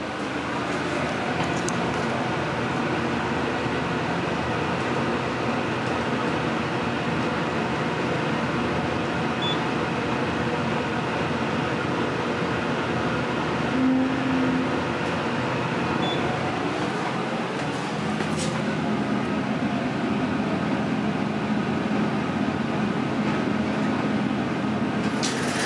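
Hydraulic elevator at 245 NE 21 Ave., Deerfield Beach, Florida running, a steady loud mechanical hum and drone of the pump and motor continuing throughout with a slight shift in tone partway.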